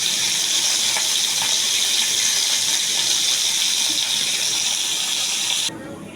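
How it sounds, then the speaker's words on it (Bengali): Magur catfish frying in hot oil, a loud, dense, continuous sizzle and crackle close by that holds steady, then drops sharply in level just before the end. "এই জন্য প্রথমে আমি মাছটা ভেজে নিচ্ছি।"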